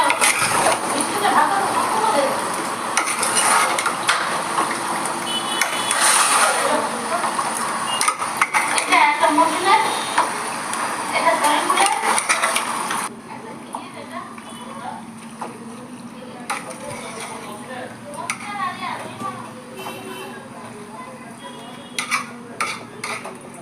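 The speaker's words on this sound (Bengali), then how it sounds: "এবার মাংসগুলোকে মশলার সাথে ভালো করে মেখে নেব" Mutton pieces being mixed with spices and mustard oil in a pot for mutton kosha, with clattering utensil scrapes and wet stirring, busier in the first half, then quieter scraping.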